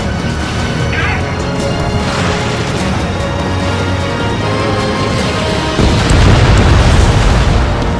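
An enemy bomber shot down and exploding in the Ace Combat flight game, a heavy low boom swelling late under continuous loud jet engine roar, with radio chatter voices in the mix.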